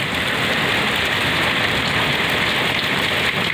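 Steady, heavy rain pouring down continuously, a dense hiss of drops close by with no other sounds.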